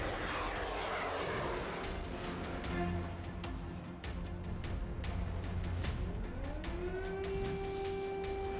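Drone engine in flight, a loud, continuous propeller drone with a steady buzzing tone that holds throughout, pitch rising and sweeping in the latter half as it passes near.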